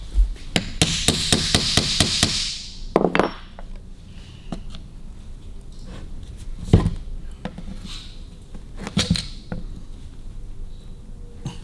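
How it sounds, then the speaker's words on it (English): A hammer taps the casing of a Harley 32E generator, first in a quick run of about a dozen close metallic knocks, then in sparser single blows spaced over several seconds. "Now get a hammer, give her a little tap to free the casing up."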